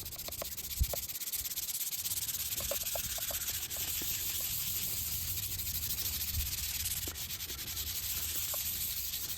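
Painted wood is sanded by hand in a quick going-over, a continuous soft, scratchy rubbing hiss that stays fairly faint and steady, broken by a few small knocks, with no talking.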